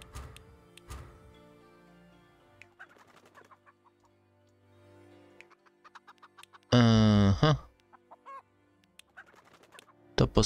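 Chickens cluck at a chicken farm in the city-building game Laysara: Summit Kingdom, with a string of short clucks and one loud burst near the middle over a quiet game background.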